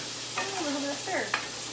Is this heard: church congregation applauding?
no